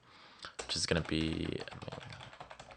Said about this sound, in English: I'm just going to type in server name